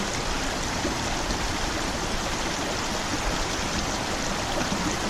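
Steady broadband rush of the Watauga River flowing near Johnson City, Tennessee, a constant close stream sound with no breaks and no voices.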